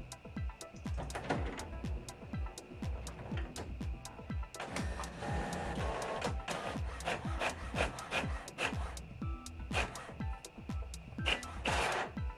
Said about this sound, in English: Okay Google, ask HP printer to print comics. I have sent a page of comics to your printer.